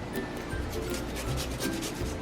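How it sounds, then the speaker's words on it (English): Fresh ginger root is grated over a pan with a continuous, close scraping rasp in quick, rhythmic strokes, loud and unbroken for the whole short stretch. "I'm just going to grate my ginger root into my pan"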